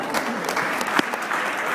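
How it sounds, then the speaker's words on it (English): Wedding reception guests applaud the matrons of honor, a dense, steady burst of clapping with a few sharper claps standing out, fairly close and loud throughout. "Let's a round of applause for our matrons of honor"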